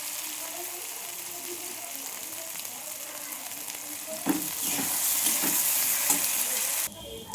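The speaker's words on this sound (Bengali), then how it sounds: "আমার পেঁয়াজ ভাজা হয়ে গেছে" Onions fry in a pan with ginger, garlic and onion paste, a close steady sizzle. It grows louder and busier midway as the mixture is stirred, then cuts off sharply near the end.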